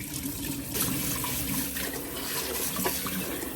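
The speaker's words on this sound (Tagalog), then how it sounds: "So, maghugas na tayo ng 2 cups of glutinous rice." Two cups of glutinous rice being washed under a running kitchen tap, a steady rush of water splashing into the sink with small shifts as the grains are stirred, close and continuous.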